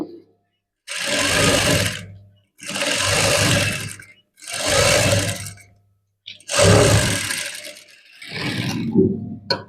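A sewing machine stitching a maggam work blouse runs in five loud, close bursts of rapid whirring, each lasting about one to one and a half seconds, separated by short quiet pauses.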